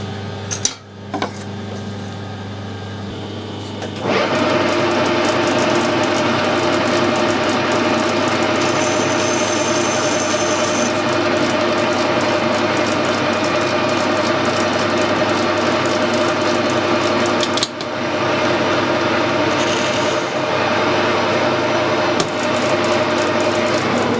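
Metal lathe cutting threads on a spindle protector, a steady machine hum and whine starting after a few seconds and running continuously at close range, with faint clinks and a brief knock partway through.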